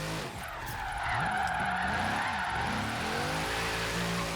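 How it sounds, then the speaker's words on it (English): Tires of a Mercedes-AMG GT R skidding and losing traction in Forza Horizon 3: a sustained, close screech over a steady engine drone, with no talk. "I'm trying to make it lose traction here and it's not letting me too much"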